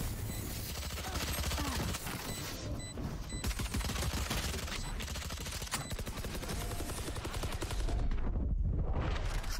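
Sidearm shots in the tactical shooter Valorant, heard amid dense, continuous game noise with overlapping gunfire and effects throughout, growing slightly louder near the end.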